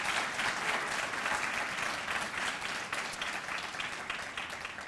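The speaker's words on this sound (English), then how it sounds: "Let's have another round of applause for all of our scholarship recipients and our kind donors." Steady, dense applause from a sizeable audience at a scholarship recognition brunch, sustained evenly throughout with no voices over it.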